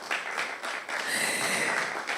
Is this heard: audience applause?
yes